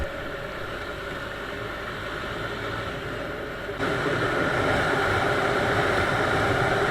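Chinese Viper 200 motorcycle engine running steadily in a continuous mid-pitched drone, growing louder partway through as the revs rise, close and alone with no talk.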